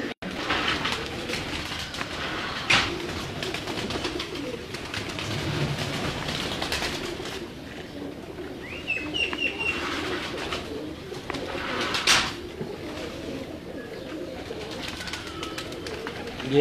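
Salaty pigeons coo softly in a low, murmuring chorus, joined by scattered chirps and rustling, with some background clatter throughout.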